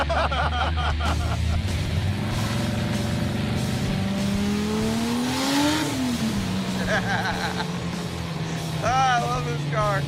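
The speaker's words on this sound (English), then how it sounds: "We have that V8 rumble that the 2JZ doesn't have" A Dodge Charger's V8 rumbles steadily while driving, a deep continuous drone that swells as it revs, with voices talking over the engine noise.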